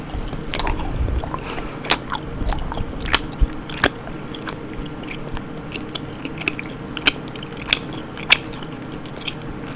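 Swedish fish and gummy bears chewed close to the mic, with soft squishy bites and sticky wet mastication repeating irregularly, quiet and intimate with no talking.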